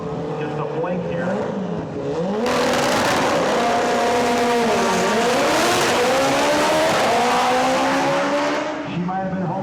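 Race car roaring down a racetrack at high speed, loud engine pitch rising and falling through gear changes with tire noise, a commentator talking over it throughout.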